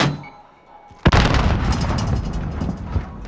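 A sudden loud grenade blast in a video game shooter, a sharp boom followed by a long rumbling roar that fills the rest of the moment with a few later pops.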